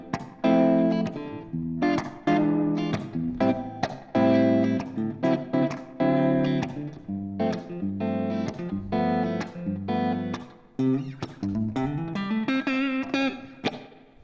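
Clean electric guitar tone from a Hotone Ampero, played as a busy run of picked chords and single notes with varying attack, close and alone with no talk.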